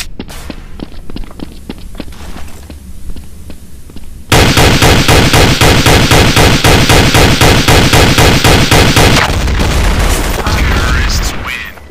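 Counter-Strike: Source gunfire on the Italy map: first scattered single pistol shots and footsteps, then a sudden loud run of rapid automatic fire that continues densely to the end, with talk mixed in.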